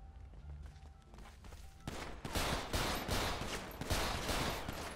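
Rapid bursts of gunfire in GTA 5 roleplay crackle loudly and continuously for the last three seconds after a quieter stretch of background noise, with repeated sharp shots overlapping.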